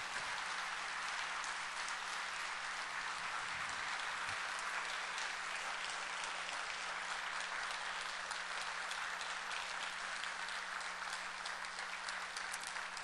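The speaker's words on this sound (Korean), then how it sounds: "우리 박수 한번 하겠습니다." A church congregation gives sustained, dense applause after a sermon. The clapping holds at an even, loud level for the whole stretch without a break.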